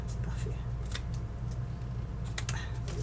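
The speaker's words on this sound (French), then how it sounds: "Puis on se fait une petite coupe ici. Couper comme ça à ras." Scissors cut paper flush while a folio is being finished, giving a few faint, close snips and crisp paper clicks over a low steady hum.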